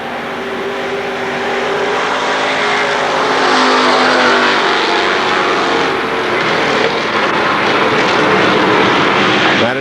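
Race cars at Kil Kare Speedway during a Labor Day championship race roar loudly and continuously, a dense engine drone that swells as the pack passes by, with no talk.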